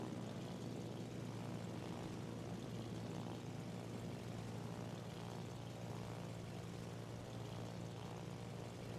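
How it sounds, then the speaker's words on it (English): Propeller aircraft engine drone in the World of Warships naval combat game as a fighter launches, a steady broadband roar that holds evenly at moderate level throughout with no voices. "Fighter airborne."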